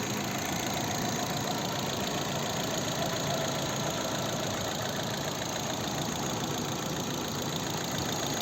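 A 2010 Opel Zafira with a 1.8 MPI petrol engine runs steadily, giving a constant close mechanical hum and ticking with no change in pitch and no voices.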